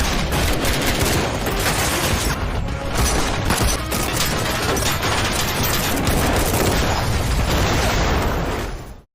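A film battle scene erupts in dense, loud gunfire, rapid overlapping shots and bursts sustained for several seconds before cutting off abruptly.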